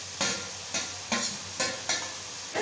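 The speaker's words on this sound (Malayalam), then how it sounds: "ഇതൊരു പകുതി വേവാകുന്നതായിട്ട് നമ്മളിങ്ങനെ ഇളക്കിക്കൊണ്ടിരിക്കുക" Cabbage stir-frying in a pan for mutton fried rice, five evenly spaced scraping stir strokes over a soft continuous sizzle, close and fairly loud.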